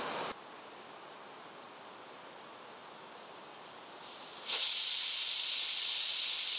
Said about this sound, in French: Si je prends une cocotte minute, je rétablis une pression positive, une pression plus importante, ce qui fait que ça va cuire beaucoup plus vite.